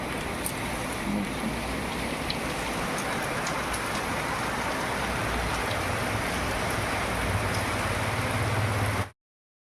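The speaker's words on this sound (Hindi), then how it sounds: "आज बहुत जोरों से आज फिर बारिश हो रही है" Heavy rain pours steadily and loudly in the early morning, a dense, unbroken hiss of falling water that lasts the whole time and then cuts off abruptly, with no voices.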